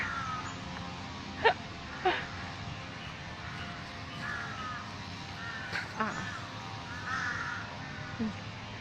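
Several harsh crow caws ring out at intervals over a steady outdoor background hiss in Benchasiri Park, some single, some in quick pairs.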